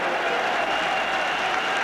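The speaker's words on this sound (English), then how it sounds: "Ross Jack going off to tremendous applause from the Dunfermline fans for his efforts up front" Steady, dense applause from Dunfermline fans fills a football stadium as their substituted striker walks off during a match against Rangers, continuous and broad throughout.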